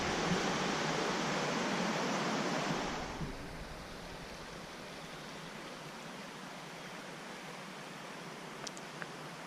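A river flows steadily with a broad rushing wash, loud for the first few seconds and then softer and more distant, continuous with no voices.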